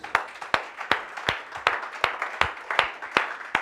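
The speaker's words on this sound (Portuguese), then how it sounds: "Dá um salve de palmas para Jesus." A church congregation gives a round of applause for Jesus, heard as sharp, evenly spaced claps, about ten in a steady rhythm, fairly close and without talk.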